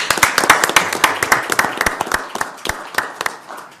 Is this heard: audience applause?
yes